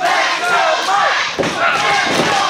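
A wrestling crowd at a CWF Mid-Atlantic event cheers and yells loudly and continuously, close and full, with overlapping shouts and whoops.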